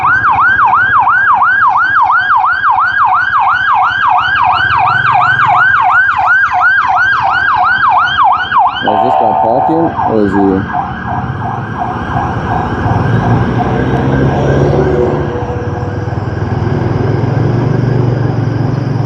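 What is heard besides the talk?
ambulance siren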